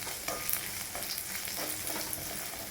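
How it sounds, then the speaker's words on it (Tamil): Mustard seeds, fenugreek and small shallots frying in oil in a pan, a continuous close sizzle with rhythmic stirring scrapes. "முதல்ல அடுப்பில் கொஞ்சம் எண்ணெயை விட்டுண்டு கடுகு, வெந்தயம், சின்ன வெங்காயம் போட்டு வதக்கிக்கணும்."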